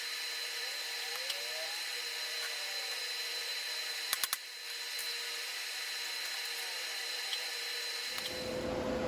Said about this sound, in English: I'm gonna bevel this a little bit and clean all the mill scale off and get it ready to weld.